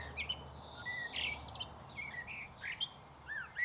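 A blackbird sings a mellow, fluty song of short whistled phrases at a distance, faint against a soft background hiss.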